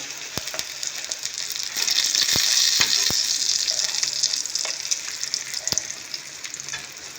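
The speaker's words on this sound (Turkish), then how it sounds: "Şimdi malzemeli tarafı kızarsın tekrar." Egg-dipped bread with cheese, green onion and spices sizzles steadily in a frying pan, with a loud, continuous crackle and a few sharp pops and ticks; no one speaks.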